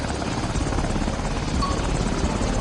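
Jump plane aircraft engine in a VR military video game on PS4, a loud, steady, close droning rumble that runs unbroken throughout.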